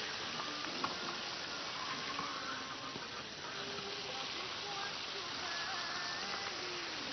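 Tilapia fish frying in hot oil after being turned over, a steady broadband sizzle and crackle running continuously at moderate level with faint speech in the background.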